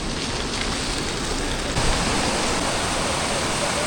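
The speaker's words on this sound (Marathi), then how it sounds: "नदी ही फुल जोमाने भरून वाहते बघा" A swollen river rushes in full flood during heavy monsoon rain on the Naneghat trek in the Malshej ghat, a steady, loud, broadband roar of water with no break throughout.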